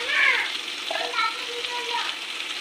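Vegetables for a Bengali hilsa fish curry with brinjal, potato and pumpkin fry in a pan, giving a soft steady sizzle with faint stirring, while bright whistly tones sound over it.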